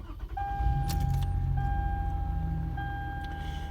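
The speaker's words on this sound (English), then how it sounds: "So I'm gonna turn my car on." A car engine turns over and settles into a steady low idle, with warning chimes sounding inside the cabin and a light jingle of keys near the start.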